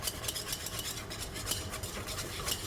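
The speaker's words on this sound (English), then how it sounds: "We want to keep stirring it" Thickening au gratin sauce stirred into a paste in a pot, soft repeated scraping and rubbing strokes in a steady rhythm, quiet and close with no speech.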